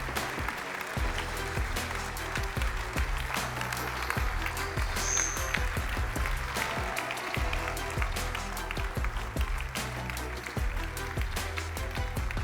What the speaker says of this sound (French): Vos plus beaux applaudissements?